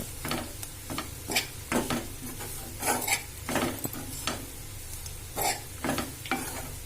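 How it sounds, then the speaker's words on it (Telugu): Bitter gourd fried with garlic and chili sizzles steadily in a pan while a spatula scrapes through it in repeated, fairly regular strokes, close and alone. "5 minutes ఇలా ఫ్రై చేసుకుంటే మొత్తం అది పొడి పొడిగా అవుతుందండి"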